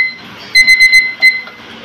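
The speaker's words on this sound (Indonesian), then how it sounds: "Ayan na, tumunog na yung ating alarm." A kitchen timer alarm goes off while meatballs cook, giving five quick, shrill electronic beeps, four evenly spaced and a fifth after a short pause, loud and close.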